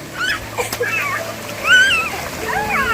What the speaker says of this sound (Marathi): सुरवी इथेच सुरवीने आंघोळ करायला चालू केलं